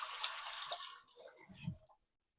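Running tap water splashing over hands being washed at a sink, a close, hissing stream that fades and breaks into a few drips and small clicks before cutting off to silence.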